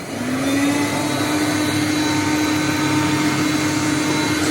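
A Hoover Conquest upright vacuum cleaner running steadily, with a loud, constant motor whine and airflow roar from start to finish, close up with no talking.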